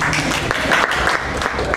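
Audience clapping at a Toastmasters club meeting, a dense, steady burst of many hands filling the room at close range with no voices over it.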